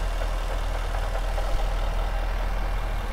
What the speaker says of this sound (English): Super quiet idle, sounds very healthy.